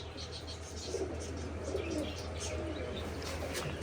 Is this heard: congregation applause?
no